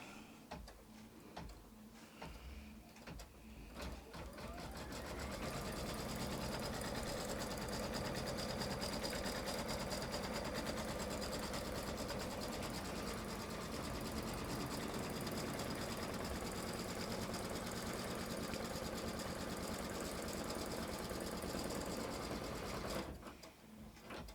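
An embroidery-capable sewing machine stitches a quilt block held in a hoop, running steadily and loud for about twenty seconds with a fast rhythmic needle chatter, starting and stopping cleanly.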